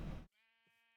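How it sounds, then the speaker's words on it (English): A single sheep bleat in Minecraft with a clean, slightly synthetic tone rings out after a brief burst of noise cuts off. "there's a lot of sheep right here"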